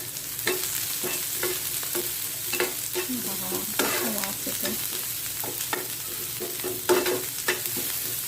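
Ginger, garlic, green chili and black pepper paste being stirred and mixed in a hot pan for veg Chinese noodles, with repeated spoon scrapes and clicks over a steady sizzle, close and fairly loud, no talking.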